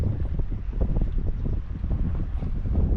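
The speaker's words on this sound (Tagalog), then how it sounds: "Malakas ng hangin" Strong, steady wind at sea roars and buffets the microphone with a continuous low rumble, loud throughout and without any voices.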